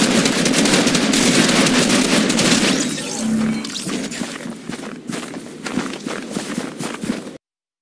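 Rapid bursts of gunfire in the video game Fortnite crackle loudly and densely for several seconds, then thin into scattered shots before cutting off abruptly, with almost no talking.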